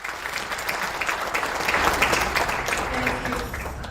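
Conference attendees at an engineering institution's tenth anniversary event give a warm, sustained round of applause, a dense, loud clatter of many hands swelling slightly in the middle and continuing steadily to the end.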